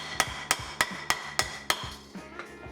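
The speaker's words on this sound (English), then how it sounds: "Turn it over and hammer it with the rawhide to flatten it out a little more." Six evenly spaced, fairly loud rawhide mallet thumps flattening a copper bracelet, duller than a steel hammer, followed by a couple of softer taps trailing off.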